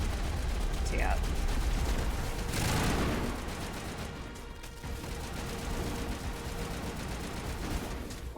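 Gunfire in the Mass Effect 1 video game, a dense, steady wash of shooting and combat noise, with a brief louder burst near the middle, running throughout.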